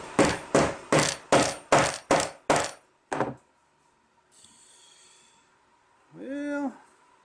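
A hammer drives a T-nut into a wooden CNC wasteboard: seven loud, evenly spaced blows, a pause, one more strike, then a short voiced groan after a quiet stretch.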